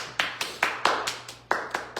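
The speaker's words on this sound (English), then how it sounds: "Give yourselves a round of applause." A small group applauding after a natural hair styling demonstration, with separate sharp claps in an uneven rhythm, close and fairly loud, rising and decaying quickly.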